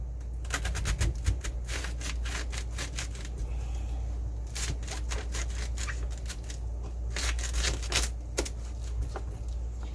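A knife chops through food on a cutting board in a home kitchen, a quick series of sharp, close clicks and taps clustered in bursts, with quieter gaps between the cuts.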